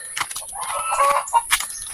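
Turkey calls up close: a short burst of clucking and warbling gobbles, several quick notes in a row over faint background hiss.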